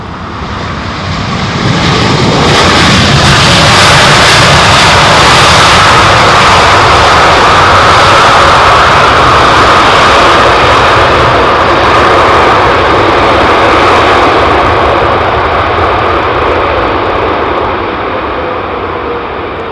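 A Royal Jordanian airliner passes close by at London Heathrow Airport, its jet engines swelling into a loud, sustained roar that holds for many seconds before gradually easing.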